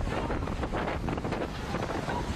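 Strong wind buffets the microphone in heavy, gusting rumbles that never let up.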